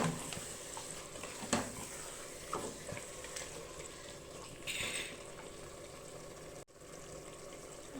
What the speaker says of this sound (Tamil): இந்த தயிரோடு சேர்ந்து வதங்கும் போது நமக்கு சிக்கன் வந்து சாஃப்ட் ஆயிரும்